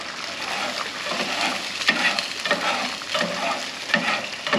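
Food sizzles and fries on a Camp Chef four-burner griddle, a close, continuous crackling hiss with scraping stir sounds and small splatters throughout.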